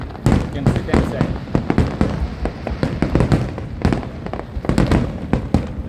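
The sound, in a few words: fireworks exploding during Eid celebration in Abu Dhabi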